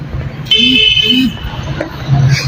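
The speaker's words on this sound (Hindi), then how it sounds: "ट्रैफिक रवा दवा है" City street traffic on Mall Road in Lahore, with a steady car horn tone and a low engine rumble from passing vehicles, while someone talks over it.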